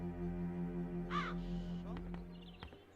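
Crows caw in a short burst of harsh calls over a steady droning game soundtrack, set in the fantasy adventure game The Chains of Satinav.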